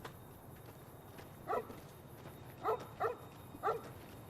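A dog in the Fallout: New Vegas video game gives four short barks, one alone and then three more spaced a second or less apart, moderately loud over a low, steady game ambience.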